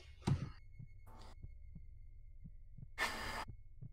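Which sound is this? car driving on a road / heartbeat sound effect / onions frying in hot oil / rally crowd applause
heartbeat sound effect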